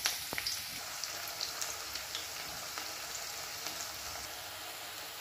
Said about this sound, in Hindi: तेल गरम हो गले पियाज को लाल करी भाजी नबा।